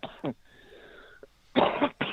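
A sick man coughs deeply from the chest, a short cough near the start and then a loud, harsh burst of chesty coughs close to the microphone in the final half-second.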